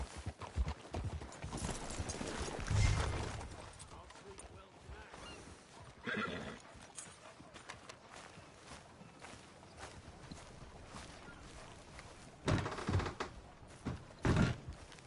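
Horse hooves clip-clopping steadily with a couple of whinnies rising over the rhythm, set against a busy synthetic soundscape in the game Red Dead Redemption 2.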